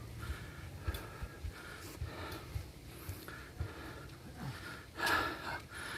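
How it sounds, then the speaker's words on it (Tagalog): Heavy, uneven panting comes from a road cyclist after a steep uphill climb, with sharp gasping breaths repeating every half second or so at a quiet level and a louder burst near the end. "Hingal sa paglalakad."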